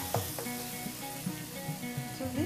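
Eggplant frying in a pan until lightly browned, with a little salt added, for an egg-and-eggplant dish: a steady, close sizzle with soft crackles and occasional stirring scrapes, and no talk.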